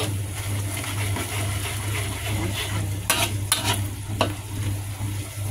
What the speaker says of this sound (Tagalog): Nasusunog yung ilalim kaya kailangan lagi niyong haluin